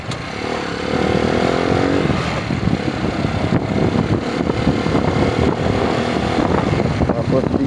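Motorcycles ride along a new bypass road between Binmaley and Lingayen, their engines droning and revving steadily at close range for several seconds, with a constant wash of road and wind noise.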